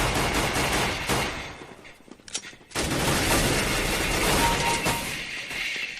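Dense small-arms gunfire from Counter-Strike: Global Offensive on Xbox 360 crackles in loud, rapid bursts, dropping into a brief lull before the shooting resumes at full intensity.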